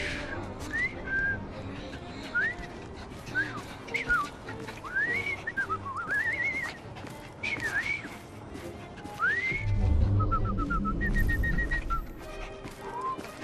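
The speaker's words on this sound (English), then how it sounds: "I've just learned to whistle." Man whistling in the video game Assassin's Creed Syndicate, a tuneful run of rising and falling notes over street ambience, with a horse-drawn carriage rumbling low near the end and no speech.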